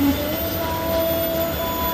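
Sawunggalih passenger train passing at Tumiyang, a steady loud rolling rumble with a sustained metallic tonal whine throughout, no talking.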